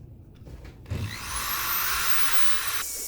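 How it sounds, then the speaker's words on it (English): A drill spinning a wire brush attachment against an alloy wheel with the tire still mounted, starting after a few brief knocks into a loud, steady scouring whir that holds for about two seconds. "I started off with a couple different wire brush attachments on my drill"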